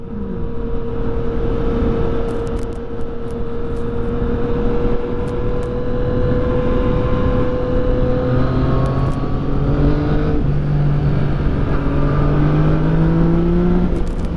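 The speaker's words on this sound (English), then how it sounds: "Nice thing with the stock exhaust, I'm kind of incognito right now. It's not super loud." A Yamaha FZ-09 motorcycle with its stock exhaust, heard on a ride as a close, steady engine drone whose pitch climbs and drops through gear changes, fairly smooth and not overly loud.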